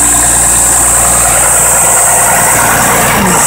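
An M929A2 military dump truck's engine runs at high idle after a radiator tank repair, a loud, close, steady diesel drone with a constant rumble and hiss and no talk.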